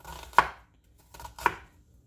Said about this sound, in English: I'm only going to need about a half of an onion for this, so I'm going to just kind of chop them up just a little bit